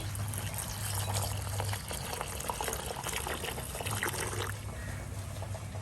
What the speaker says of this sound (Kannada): ಬಿಸಿ ನೀರು ಹಾಕ್ತಾ ಇದ್ದೀನಿ